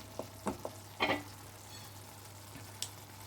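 Prawn masala is stirred in a pan, with a few soft scrapes and taps of the spoon over a faint, low sizzle and a steady hum, and no talking.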